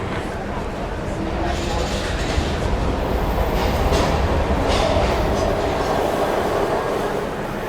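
Train in the video game Heavy Rain, a loud continuous rumble of rolling carriages with rattling wheels and faint squeals, steady throughout, with voices talking over it.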